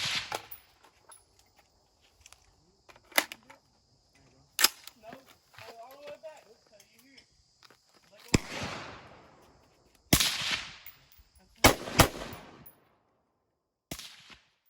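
A KA-15 rifle is test fired with 55 grain rounds and an H1 buffer, sharp loud gunshots cracking out in ones and twos, separated by quiet stretches with faint voices in between.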